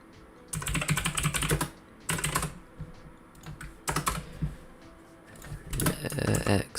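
Someone types on a loud computer keyboard, with rapid bursts of close, sharp key clatter separated by short pauses.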